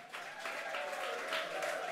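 Applause rises from the audience at a jazz trio concert at Nasjonal Jazzscene, a short, fairly faint patter of clapping over a low steady hum.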